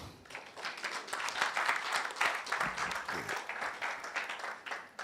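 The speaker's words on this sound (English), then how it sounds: "While the rest of you clap" Audience applause at a national quiz championship launch event, a sustained patter of many hands clapping at moderate volume, fairly close, without clear talk over it.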